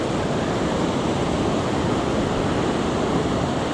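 Surf breaking on a San Diego beach, a steady, loud wash of ocean noise that fills the whole stretch without any clear pauses between waves, with faint wind mixed in and no voices.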